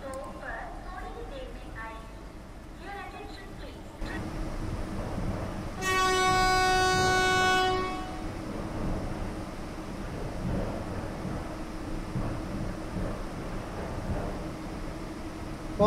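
Vande Bharat Express pulling into Katpadi Junction with a low rolling rumble of wheels, a loud two-second horn blast partway through, and the train rolling steadily on, with people talking nearby.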